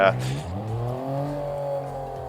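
An executive car rolls slowly around town, its engine giving a smooth, steady low hum that rises gently in pitch, with a brief louder burst at the start.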